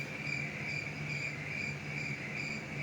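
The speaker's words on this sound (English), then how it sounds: "We got these little coqui frogs, and they sound like crickets." Coqui frogs in Hawaii chirp in a steady, cricket-like pulsing chorus, faint and continuous, with no voices.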